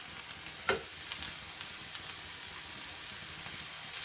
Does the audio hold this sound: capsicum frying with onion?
yes